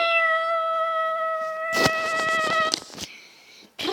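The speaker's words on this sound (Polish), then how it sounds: "Miau, miau, miau." A cat meows with clear harmonic cries, sustained at first, then broken by sharper bursts and a brief caterwaul, fairly close and alone with no talk.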